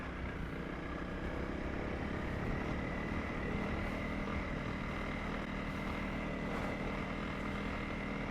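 Motorbikes ridden over a rough mountain pass, heard as a steady, loud engine drone mixed with wind and rumble that holds without a break.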